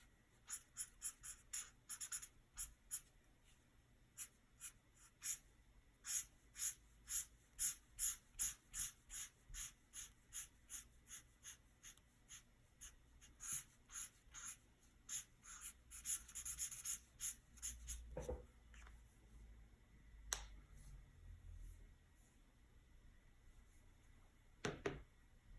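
Marker strokes on paper while sketching a crossover SUV with a 40% grey marker, a steady run of short rhythmic squeaky swipes, close and clear, with a few heavier rubs near the end.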